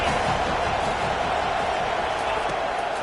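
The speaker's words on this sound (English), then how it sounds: "This crowd trying to make life miserable for this offense." Football stadium crowd making a steady, dense roar of noise against the visiting offense, loud and unbroken throughout with no distinct peaks.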